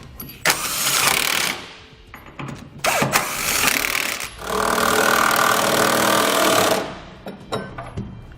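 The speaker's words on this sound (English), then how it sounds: "We'll now tighten down all of our hardware using a 1-inch socket" Power impact wrench tightening a Demco Autoslide fifth wheel hitch's hardware with a 1-inch socket on a Chevy/GMC truck, heard in several loud rattling bursts, the longest lasting about two seconds, separated by short pauses.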